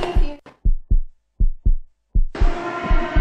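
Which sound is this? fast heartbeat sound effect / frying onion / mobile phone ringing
fast heartbeat sound effect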